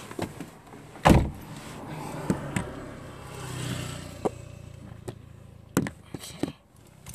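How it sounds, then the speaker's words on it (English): A person climbs into a car and settles in, with several sharp door and body knocks and rustling, one loud thump near the start, and a brief whirr like a power window, all close by with no talking. "as I get back in my car."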